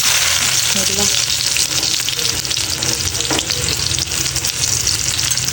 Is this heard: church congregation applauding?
no